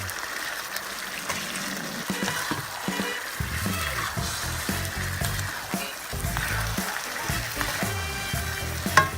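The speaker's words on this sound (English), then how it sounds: "And then add your meats. And once again, stir." Meat fries in a pan on the stove, a constant soft sizzle with intermittent scraping and knocking as it is stirred, fairly quiet and close with no talk.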